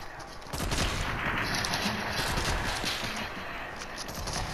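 Gunfire in the Fortnite video game, at a modern mansion in a sniper-only match, comes as a dense, rapid burst of shots over a rough, noisy background.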